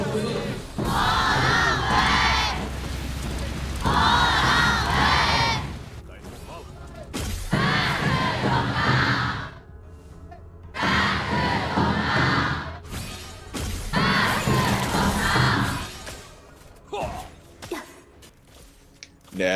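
A large esports arena crowd at the KPL grand finals cheers and chants in loud repeated surges before game five, with brief lulls between the swells of shouting.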